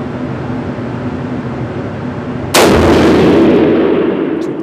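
Single loud gunshot from a firearm firing Hornady ammunition at a test range, a sharp blast midway through that rings out and decays over steady background noise, with no talking.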